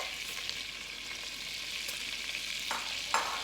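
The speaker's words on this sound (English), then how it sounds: "I'm now going to add my vermicelli into my butter." Vermicelli frying in melted butter for a milky sweet dish, giving a soft, constant crackling sizzle broken by a few scraping stirs toward the end.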